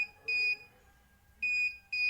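A small electronic buzzer on an ultrasonic distance sensor circuit beeps rapidly in short, sharp, high-pitched tones, four beeps in quick pairs, close and clear over a faint background hum.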